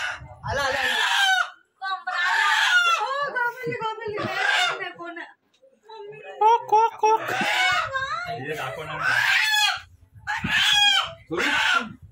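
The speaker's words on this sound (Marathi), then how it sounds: "बाई कोंबरा आला कोंबरा" A rooster crows again and again close by, each call long and strained, mixed with voices.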